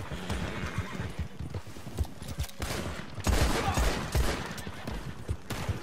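Rapid bursts of gunfire from guns in the video game Red Dead Online, crackling shots mixed with galloping horse hooves, dense and moderately loud throughout.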